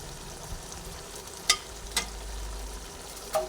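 Fried prawns are stirred back into hot oil for a watermelon rind curry, with a steady close sizzle and a few sharp scrapes and taps of the spatula against the pan.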